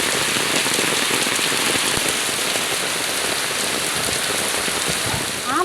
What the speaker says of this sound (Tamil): என்ன மழை பெய்யுதுப்பா? செம்ம மழை பெய்யுது.